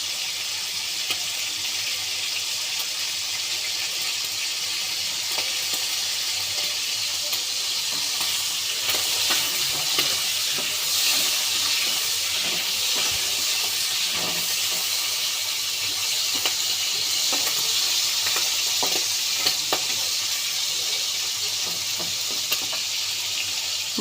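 Prawns frying in hot oil give a steady, close sizzle that runs unbroken throughout, with faint scrapes of stirring scattered across it and no talking.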